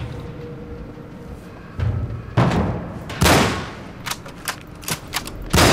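Gunfire in the game Cryostasis: a few heavy shots, then a series of short, rapid cracks in uneven bursts, loud and close over a dull background rumble.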